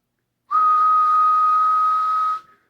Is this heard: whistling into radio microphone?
yes